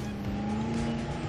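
Jeep engine revving in a Jurassic World dinosaur racing game, a steady loud motor drone with a sustained tonal whine and faint tire noise, no voices.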